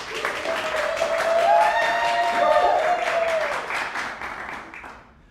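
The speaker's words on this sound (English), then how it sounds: "One more round of applause." An audience at a fine writing panel applauds steadily with dense clapping that swells and then fades out near the end, while a sustained tone hums underneath.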